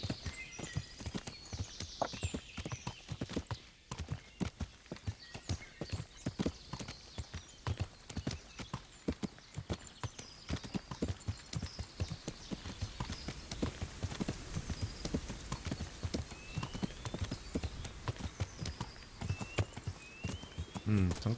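Horse hooves clip-clopping at a steady walking pace in the medieval game Kingdom Come: Deliverance, close and continuous, with a brief whinny and someone talking over it.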